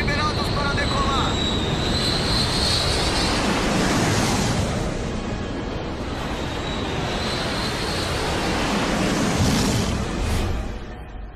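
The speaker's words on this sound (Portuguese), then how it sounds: "Liberados para decolar." Airplane roaring during takeoff, a loud broad rushing engine noise that swells, eases and swells again with a high whine riding on top.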